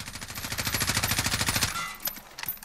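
Sustained automatic bursts from an M4 SOPMOD Block II rifle in Call of Duty Modern Warfare, a rapid even stream of loud shots for about a second and a half, then two sharp clicks or handling noises.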